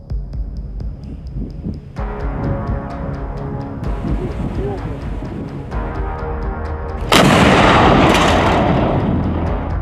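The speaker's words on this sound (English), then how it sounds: "This MT-12 artillery gun can fire subcaliber, cumulative, and high-explosive fragmentation ammunition" An MT-12 Rapira anti-tank artillery gun on the front lines in Ukraine, with low throbbing rumble and scattered thuds building to one loud, broad blast near the end that rolls away slowly, with voices faintly present.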